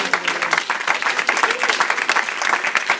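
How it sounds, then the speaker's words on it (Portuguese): A church congregation applauds during an anniversary worship service, a dense, lively burst of many hands clapping with some crowd voices mixed in, steady and fairly loud. "Aplauda o Senhor Jesus."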